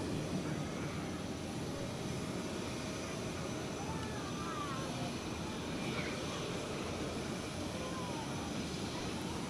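An Edelweiss airliner departing Zurich airport for Cancun, a distant steady engine roar that holds for several seconds at low volume, with faint talk beneath it.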